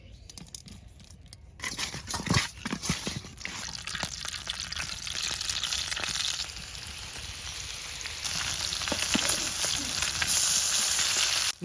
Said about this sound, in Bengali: এখন ইলিশ মাছটা তেলে ভাজার লাগিয়া হলুদ আর লবণ দিয়ে মাহাই লমু।